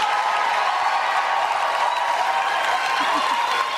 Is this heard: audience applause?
yes